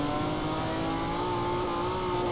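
A car engine in a racing video game holds a steady, high revving drone with a slowly rising pitch, loud and continuous with no talk over it.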